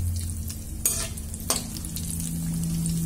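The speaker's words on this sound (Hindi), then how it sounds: "हम थोड़ा थोड़ा आलू डालेंगे और इसे हम डीप फ्राई करेंगे" Potatoes dropped a few at a time into hot refined oil for deep-frying chili potato, a steady bubbling sizzle with two sharp splashy bursts as pieces go in, close and alone.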